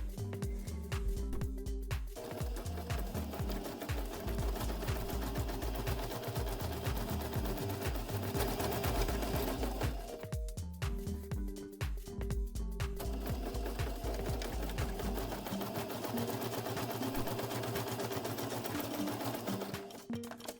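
A sewing machine stitches fabric in long rapid bursts of rattling needle strokes, pausing briefly twice before running on steadily, close and fairly loud with no voices.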